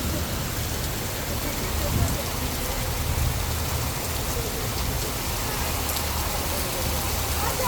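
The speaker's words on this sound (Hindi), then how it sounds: "हम जैसे ही बाहर निकले इतनी ज़्यादा बारिश हुई" Heavy rain pouring outdoors as a steady, dense hiss that stays loud and even throughout, with faint low rumbles underneath and no voices.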